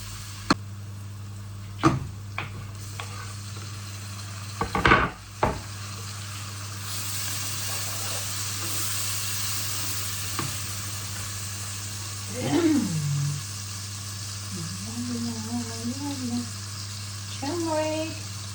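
Onions fry in a pan with salt for a curry, with green chili already added, giving a continuous soft sizzle with occasional stirring clatters, while someone talks over it intermittently.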